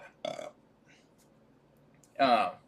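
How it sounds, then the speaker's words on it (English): A person lets out two burps during a casual livestream chat, a short one followed by a longer, louder, resonant one after a brief pause, close to the mic. "Hold on, I got a burp."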